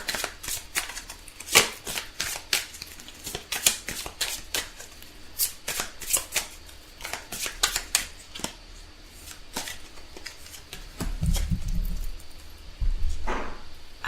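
Tarot cards are shuffled by hand, close up, in a rapid crackle of flicking, slapping cards that keeps going steadily with no voices.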